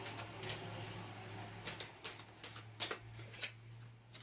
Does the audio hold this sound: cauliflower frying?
no